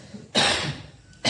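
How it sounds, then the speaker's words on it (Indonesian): A single close, harsh cough bursts out sharply and dies away quickly, followed by a brief start of another. "Batuk."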